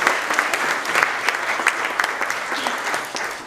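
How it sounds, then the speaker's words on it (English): A church congregation at a Baptist church applauds the children, dense clapping filling the room at an even level for a few seconds before easing slightly at the end. "So why don't we give the kids a round of applause as well."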